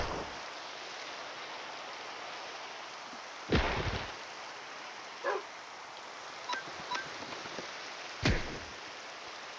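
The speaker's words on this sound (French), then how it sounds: "Oh, c'est la pluie" Rain in the Minecraft Cobblemon game, a steady soft hiss of falling rain throughout with a few brief louder thuds and clicks from the game over it, no talk.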